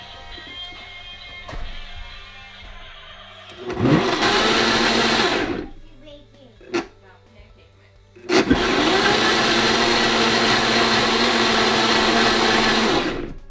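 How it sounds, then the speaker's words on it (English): A blender mixing pancake batter whirs loudly in two runs, a short burst followed by a longer steady spin, with quieter kitchen sounds and brief clatter in between. "The blender just makes it a lot quicker to mix it all up."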